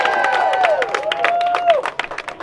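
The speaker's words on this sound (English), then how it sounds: "Let's have an applause for our children" Applause from a community rally crowd supporting striking teachers, honoring the children present, with a sustained wash of clapping beneath a sliding, sung-out voice or cheer that rises and falls over it.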